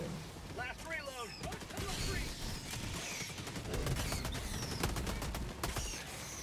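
Gunfire in Helldivers 2, rapid crackling bursts and booming shots packed together into a busy, continuous battle din, with players talking over the fighting.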